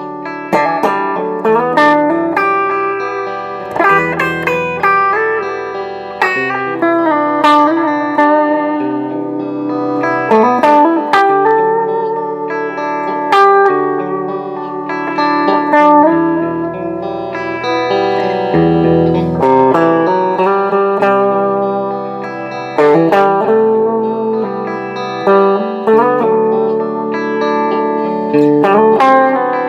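Clean tone from a repaired EVH electric guitar, played continuously with plucked notes and chords ringing out under light effects, loud and close with no talking.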